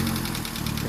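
A car engine idles steadily after being jumpstarted from a portable powerbank, a close, continuous low rumble with a slight knocking pulse and no talk.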